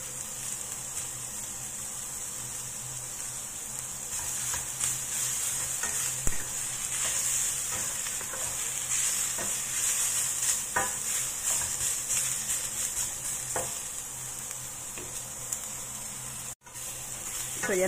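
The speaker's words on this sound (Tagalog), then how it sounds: "I-dry lang muna natin yung tubig ng ampalaya bago tayo maggisa ng scallion" Sliced bitter gourd (ampalaya) is stirred dry in a pan to cook off its water, producing a steady sizzle with scattered scraping clicks from the utensil, close and fairly quiet.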